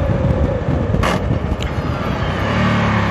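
A Ducati Multistrada Enduro 1200 motorcycle pulls hard in first gear, its engine a loud, steady, dense roar that runs without a break.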